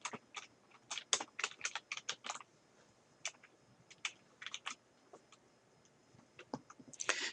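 Typing on a computer keyboard sounds as quick, close bursts of crisp key clicks with short pauses between words, fairly quiet, with no talking.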